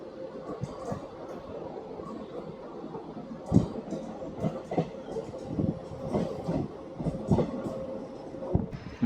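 A DEMU train on the Secunderabad–Siddipet route runs past a skipped station, heard from the last coach: a steady rolling rumble with repeated rail-joint clacks and knocks, moderately loud.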